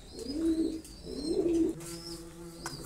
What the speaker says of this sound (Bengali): কবুতরগুলো একটু দেখেন যে আমার কাছে কবুতর কালেক্ট এগুলো আছে